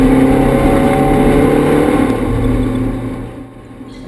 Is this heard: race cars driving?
yes